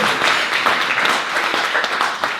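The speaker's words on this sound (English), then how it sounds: "let's give them a round of applause" Audience clapping for first-time guests at a gathering, a short, continuous patter of many hands at moderate volume lasting the full couple of seconds.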